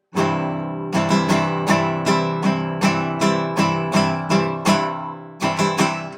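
A guitar strums the el son rhythm, a steady repeating pattern of bright chords with crisp downstrokes and quick upstrokes, played close and alone for several bars.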